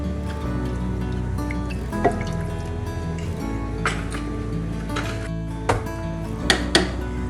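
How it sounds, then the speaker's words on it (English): Coconut milk is poured into a pot of potatoes for a Kerala mutton stew, a soft liquid trickle and drip over a steady low kitchen hum, with a few brief clinks of utensil on pot. "Now I'm going to add about a cup of coconut milk just to cook the potatoes in it."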